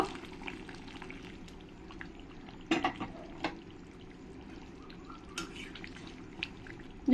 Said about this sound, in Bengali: গরম জলটা এর মধ্যে দিয়ে দেব